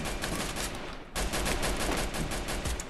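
Rapid bursts of gunfire from the battle-royale video game Free Fire, a dense, loud crackle of overlapping shots that drops out briefly near the middle before resuming just as thick.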